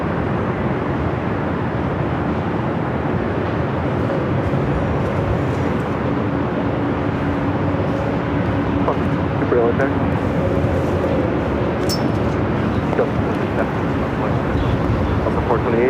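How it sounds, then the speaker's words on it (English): An Airbus A321neo airliner at Los Angeles airport roars steadily with a sustained engine drone and a faint whine, loud and continuous, while people talk and radio chatter comes and goes over it. "It's an A321 Neo."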